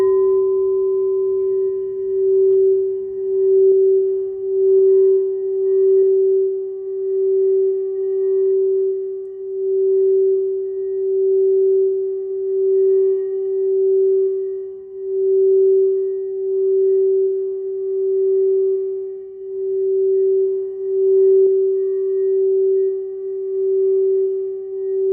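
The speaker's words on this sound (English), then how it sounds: "one of the tools that I use is my crystal bowls, my sound bowls. And this is the 741 hertz." A 741 Hz crystal singing bowl rings as one pure sustained tone with slow, regular swells in loudness, steady and alone throughout with no talk.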